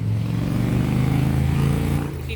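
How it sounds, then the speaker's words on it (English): Steady street traffic rumbles outside a flower and garden shop in Chestnut Hill, Philadelphia, with cars and other vehicles passing in a continuous, fairly loud low drone that eases slightly near the end. "If you can't hear me because the traffic, the cars, the vehicles, sorry about that"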